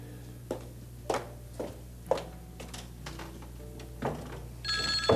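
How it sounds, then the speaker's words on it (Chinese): Telephone bell rings in a quiet indoor scene from a period television drama, repeated short bursts spaced roughly half a second to a second apart, fairly close and clear, with no talk over it. "是不是要找小薇听电话？"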